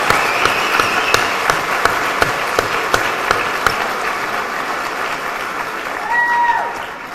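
A conference audience gives a round of applause for the speaker's mom and dad, loud sustained clapping with some sharp individual claps, a brief swell near the end before easing off.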